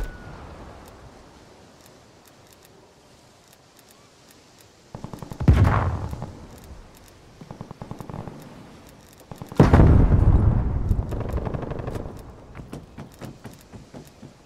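Gunfire in the video game Call of Duty Black Ops Cold War, played on a PC: two loud bursts of rapid shots ring out, each followed by sustained crackling fire and a ringing decay.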